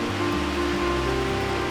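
Rain falls steadily outdoors at a homestead as a constant broadband hiss, with a low steady hum running underneath.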